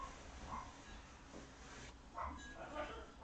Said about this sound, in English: Oh, Miku's barking